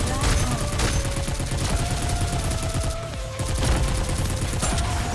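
Rapid, near-continuous assault rifle bursts from a gacha shooter game, NIKKE Goddess of Victory, crackling loudly with tight volleys over a steady backing music bed and layered combat effects.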